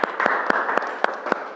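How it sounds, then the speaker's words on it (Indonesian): Classroom applause from students during a primary school religious studies lesson, a short burst of steady clapping with several sharper claps standing out, close and fairly loud. "Tepuk tangan untuk Sherly sama Tasya."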